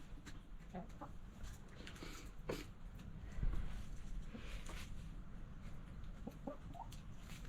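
Chickens, including a small rooster, clucking around a coop, soft scattered clucks and calls at a modest distance over faint rustling background noise.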